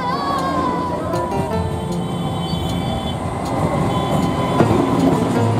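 The Purulia–Howrah MEMU passenger train runs through Rainagar station on its inaugural run. It is loud and close, with a sustained rumble, a whining electric motor tone and rhythmic wheel clatter, and no voices over it.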